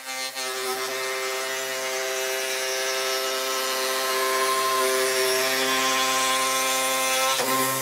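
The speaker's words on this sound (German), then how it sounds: "Mit der Oberfräse rundet er die harten Kanten des Griffs." A wood router spins steadily while rounding the hard edges of a wooden hand plane's handle, giving a loud, sustained whine at constant pitch with a faint cutting rasp. A brief dip comes near the end.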